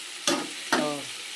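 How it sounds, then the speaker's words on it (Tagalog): Hot liquid in a pan, just topped up with water, gives two sharp bursts of sizzling and bubbling that fade into a steady close hiss, with no voices. "Kumukulo na siya dahil nilagyan ko na ng tubig"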